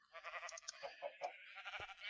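Sheep in the video game Minecraft let out a few short, quiet bleats in quick succession, mixed in with a person speaking.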